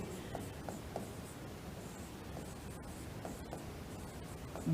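Pen or chalk strokes scratch steadily while notes are written during a lesson, a soft continuous scribbling with small taps and pauses, fairly close and alone.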